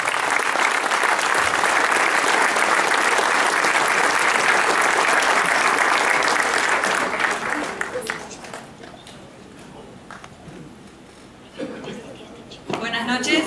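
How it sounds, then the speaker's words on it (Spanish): Audience at a literary event applauds loudly and continuously for several seconds, then the clapping fades to sparse claps and quieter room sounds with brief bursts near the end. "Fuerte el aplauso para todos ellos."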